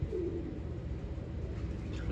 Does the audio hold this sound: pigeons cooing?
yes